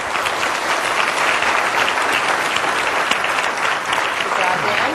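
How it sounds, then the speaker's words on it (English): Sustained, loud applause from an audience for the panelists at a Take Our Kids To Lunch event, an even wash of clapping with no pauses. "Let's get a big round of applause for our panelists today."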